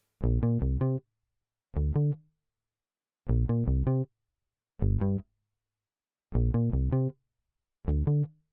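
Second-verse variation of a soca beat bass line: six clustered bursts of rapid staccato synth bass notes separated by gaps of silence, loud and bright with a buzzy, distorted edge and no voices.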